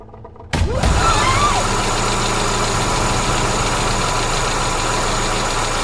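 A car engine turns over and settles into a loud, steady idle with a low rumble and faint knocking, starting abruptly after a quiet moment.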